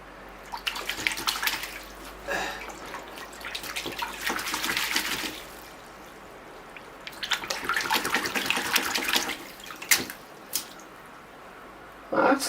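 Tap water runs and splashes in bursts as birch bonsai roots are rinsed bare in a sink or tub, with pauses between washes and a few clunks near the end.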